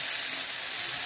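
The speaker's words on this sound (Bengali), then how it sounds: "মাছগুলো তেলে দিয়ে দেবো" Fish frying in very hot oil in a kadai, a close, loud, steady sizzle and hiss that fills the brief moment without any voices.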